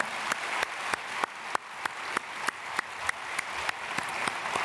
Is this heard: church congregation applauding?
yes